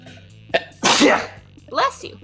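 One sharp, loud sneeze sounds close up, with a short breathy intake before it and a voice speaking briefly just after.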